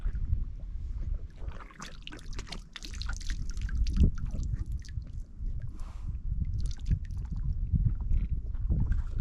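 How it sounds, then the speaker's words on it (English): Water drips and trickles from the mouths of wild mustang horses drinking at a desert spring, close and irregular, mixed with soft lapping and chewing sounds. "These horses, they let an awful lot of water drip out of their mouth."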